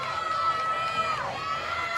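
A softball stadium crowd cheers and shouts throughout a game between Florida State and Arizona, a dense, sustained roar of voices with whistling tones rising over the noise.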